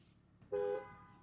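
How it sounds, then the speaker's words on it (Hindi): A single short horn honk from a Jaguar 3.0 Premium luxury car sounds out clearly, close by, after a quiet moment, with a faint hum continuing afterward. "अब इसके हॉर्न की साउंड सुनते हैं।"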